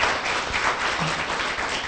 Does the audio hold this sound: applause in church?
yes